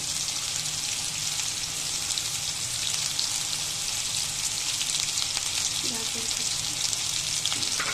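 Grated carrot, chopped potato and rice frying in a pan for a breakfast rice dish, a steady close crackling sizzle throughout with faint stirring, no one talking.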